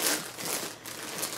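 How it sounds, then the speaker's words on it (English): A giant plastic bag wrapped around an FC-270A tripod with an FC-02H fluid head crinkles and rustles steadily during unboxing, close and continuous with no talk. "shrouded in a giant plastic bag"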